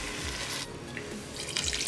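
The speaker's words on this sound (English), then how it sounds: "and my 2 cups of water." Water poured into a cooking pot for a turkey carnitas stew with beef bouillon, a steady splashing stream that runs through most of the stretch, with a brighter gush near the end and no talking.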